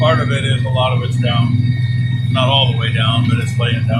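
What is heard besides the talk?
No distinct noise like a dog, phone or traffic.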